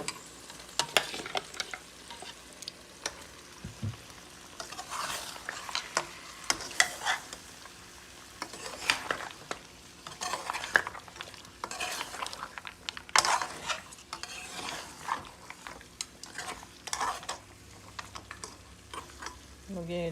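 Meat sizzles and fries in a pot while being stirred for a beef ragout, with scraping and clinking of a utensil against the pot at close range, irregular and fairly faint with occasional bursts.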